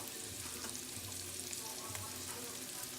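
Garlic fries with bacon and vegetables on a flat top griddle, a faint steady sizzle and crackle throughout with no clear voices.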